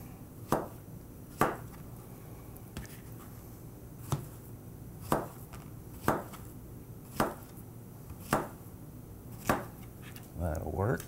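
Knife chopping plantains into inch-and-a-half chunks on a cutting board, about ten sharp, evenly spaced chops at moderate volume, quiet in between.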